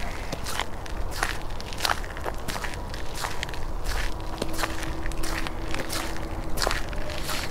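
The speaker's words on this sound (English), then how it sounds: "it's just gonna be you and your footsteps" Footsteps crunch steadily outdoors on a solitary walk, each step a crisp rustle at an even pace, close and moderately quiet, with a faint steady background and no talking.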